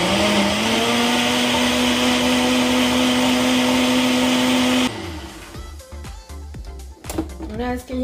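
A blender grinds tomato, garlic and onion into salsa, a loud steady whirring motor for about five seconds that then cuts off, leaving quieter clatter and handling sounds.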